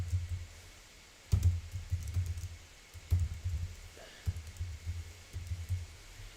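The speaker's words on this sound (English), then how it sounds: "Let's just type this in." Computer keyboard typing in bursts of soft clicks, a quick run of keystrokes with short pauses between, fairly close and moderately quiet with no talking.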